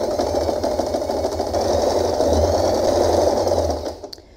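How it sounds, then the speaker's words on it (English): A sewing machine stitches layered organza and satin fabric for a scrunchie. A close, steady, fast whirring hum runs for about four seconds, then stops abruptly near the end. "you can directly fold it and you can sew all along the fabric"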